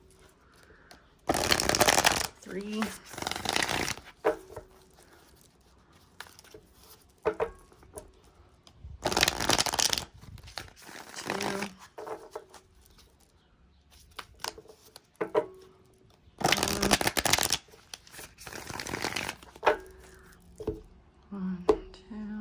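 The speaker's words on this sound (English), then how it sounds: "Let me shuffle this deck real fast." Cards are riffle-shuffled three times in quick rattling bursts, with quieter handling sounds between and brief talk.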